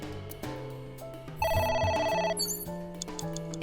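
A phone rings in the video game AI: The Somnium Files, its electronic ring tone sounding in repeated bursts over layered background music, close and fairly loud.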